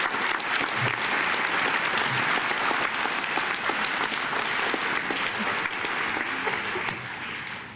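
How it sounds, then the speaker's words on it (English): Sustained applause from an audience at a high school National Honor Society induction ceremony, with even, dense clapping throughout and a slight fade at the end. "Can we please have a warm round of applause for our second group of inductees?"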